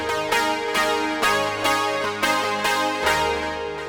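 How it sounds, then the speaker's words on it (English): Roland Juno 60 synthesizer with its pulse width modulated by the envelope, a bright buzzing chord struck repeatedly at a steady pace, each note swelling and shifting in tone as it decays. "you can actually route the envelope to modulate the pulse width,"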